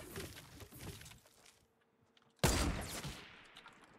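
Gunfire in Fortnite Battle Royale: a scatter of rapid shots at first, a near-silent lull, then a sudden loud burst of shots that trails off into echoing noise.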